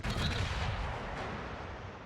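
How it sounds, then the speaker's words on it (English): A warship's main guns fire a broadside in World of Warships, a dense rumbling blast that rolls on and slowly fades over about two seconds, with no talking. "A nice broadside shot on Gneisenau"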